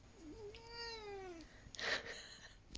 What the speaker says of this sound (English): I've got a cat who's just stolen my seat